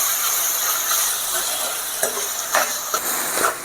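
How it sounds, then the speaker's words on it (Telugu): Ginger, garlic and tomatoes frying in a pan over medium flame, a loud continuous sizzling hiss with a few stirring scrapes and spatters near the end. "ఒక 5 మినిట్స్ ఇలాగే ఫ్రై చేస్తాం మనము."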